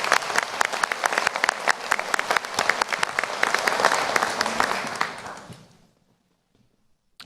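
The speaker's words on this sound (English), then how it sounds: "So let's give Cameron a round of applause." Audience applause at a graduate commencement ceremony, dense crowd clapping that holds steady, then thins and fades out into near silence near the end.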